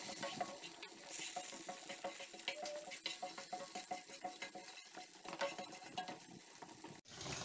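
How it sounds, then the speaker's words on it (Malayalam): A spoon stirs chicken 65 sauce thinned with water in a pan, with repeated soft scraping strokes over a quiet sizzle and occasional light metal clinks, close up and with no voices. "വെള്ളം കൂട ചേർത്ത് നന്നായി ഒന്ന് മിക്സ് ചെയ്ത് നമുക്ക് ഇതൊന്ന് തിളപ്പിക്കാം"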